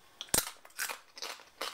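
Dehydrated home-grown potato slices crunch up close, several sharp crisp bites and crackles spaced irregularly with short pauses between.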